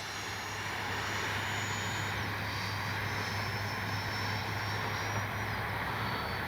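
An FMS Integral 80mm electric ducted-fan RC jet with AS3X+ flies an approach, giving a steady, continuous rushing roar with a thin high whine that holds evenly throughout.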